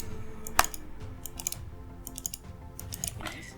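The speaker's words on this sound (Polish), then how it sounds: "klikamy na początku lewy, potem prawy przycisk myszy" Computer mouse buttons clicked quickly, left then right, during play of Dying Light, producing sharp close clicks in irregular pairs over faint background sound.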